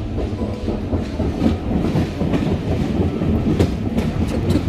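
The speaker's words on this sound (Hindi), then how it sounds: "छुक छुक की आवाज बहुत अच्छी लगती है" Ride aboard an original old steam train on the Isle of Wight Steam Railway: steady rumbling carriage noise with rhythmic clickety-clack of wheels on track, loud and continuous from inside the coach, no talk.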